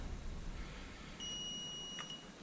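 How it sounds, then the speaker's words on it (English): A Hansshow power frunk on a Tesla Model 3 emits one solid electronic beep during programming, a thin steady tone heard faintly against a low background hum. "push and hold it until you get one solid beep."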